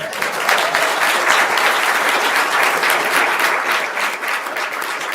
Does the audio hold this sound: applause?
yes